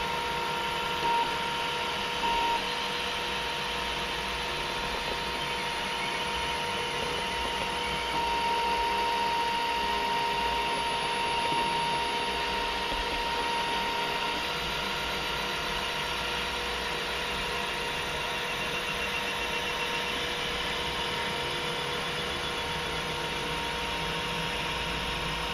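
A 3D printer prints an ABS caliper box without supports, giving off a steady, even mechanical whir and hum, with a faint tonal motor whine that holds unchanged throughout.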